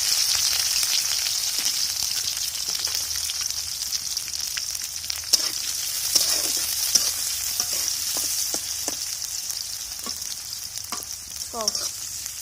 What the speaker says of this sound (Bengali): পেঁয়াজ মরিচ লাল লাল করে ভাজে নিয়ে